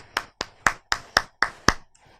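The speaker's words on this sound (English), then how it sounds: "Clap for yourself." Schoolchildren in an English class clap for themselves: about seven sharp, close claps in a quick, steady rhythm, with a faint softer tap at the end.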